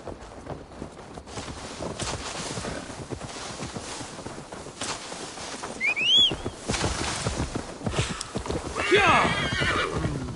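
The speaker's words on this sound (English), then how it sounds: "Now to deliver Magni his horse" A horse whinnies loudly a couple of times over steady clip-clopping hooves and rustling ambience, with the neighs rising in pitch near the end, in the video game Assassin's Creed Valhalla.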